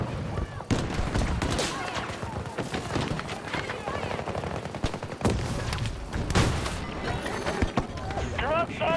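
Gunfire and a grenade blast in the shooter video game Battlefield 2042, with dense, loud, overlapping bursts of shots rattling on almost without pause while voices talk and shout over the combat.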